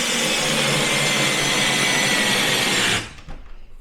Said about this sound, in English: I'm gonna take the socket and just drive that in really quickly.